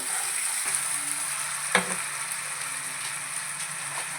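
Curry leaves and tomato pieces fry with onion and green chillies in a pan for a drumstick and dry-fish curry, making a dense, even sizzle with one sharp clink near the middle.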